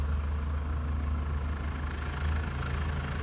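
A tractor engine idles behind an acoustic noise barrier on a sheep farm, heard as a steady, muffled low rumble that stays constant and distant throughout, with no voices.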